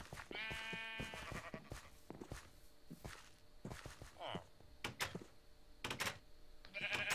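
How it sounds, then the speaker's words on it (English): Sheep bleat in Minecraft, a wavering cry followed by scattered footstep-like clicks and more short bleats, with other game sounds around them. "Random sheep"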